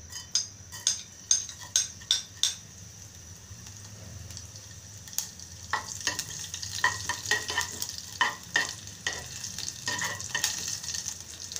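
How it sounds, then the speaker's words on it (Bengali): Panch phoron five-spice seeds sizzle and crackle in hot oil in a pan, with a run of sharp utensil clicks and scrapes at the start and again toward the end over a steady frying hiss. "তেল গরম হয়ে আসলে দিয়ে দেব 5 ফোড়ন"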